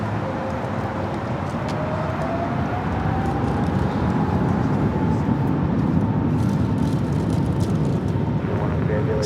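A United Airlines A321neo arriving at LAX, heard as a steady, loud jet roar with a rising engine whine that holds throughout, mixed with broad airport and traffic noise.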